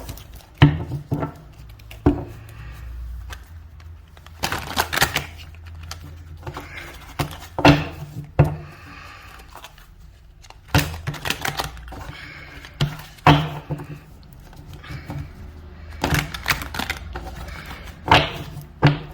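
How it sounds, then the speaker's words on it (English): Tarot cards are shuffled by hand in a quiet room, a series of crisp, irregular flicks and patters in short bursts separated by pauses, close and fairly soft. "One more shuffle."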